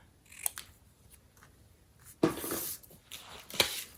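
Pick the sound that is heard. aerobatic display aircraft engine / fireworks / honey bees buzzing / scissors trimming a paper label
scissors trimming a paper label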